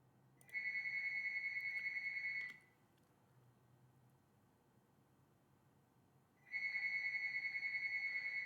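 A telephone rings in two bursts of steady electronic trilling, each about two seconds long with a quiet gap between, heard clearly and alone while work on an airplane model goes on.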